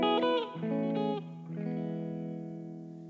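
A gospel-style lick on electric guitar, with a few quick sustained notes that settle into a long ringing tone. It sounds effected and slightly distorted, with reverb, and plays alone with no talking.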